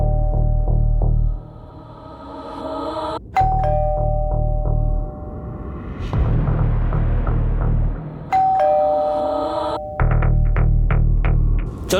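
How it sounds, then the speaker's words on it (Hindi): A doorbell chimes repeatedly in ding-dong pairs, loud and close, with a low electronic hum between rings and no one talking. "बस डोरबेल बजी।"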